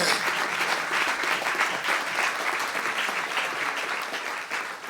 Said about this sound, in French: Si tu as deux mains, est-ce que tu peux acclamer le Seigneur?